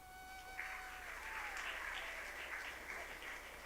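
Faint audience clapping at a spiritual talk swells after a moment and continues as a soft, even patter, heard at a distance over a steady tonal hum.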